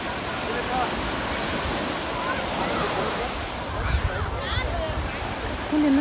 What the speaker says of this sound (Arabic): اوريكم المية عاملة ازاي والشط عامل ازاي